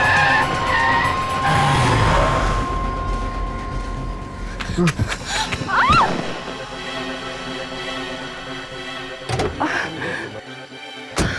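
A car brakes hard and skids on the road, a loud tire screech that rises and then cuts off, followed by a thud and the rumble of the car, with music and other sounds around it.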